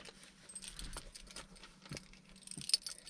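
Truck keys jingle and clink in a few soft bursts over a low hum, close by and fairly quiet.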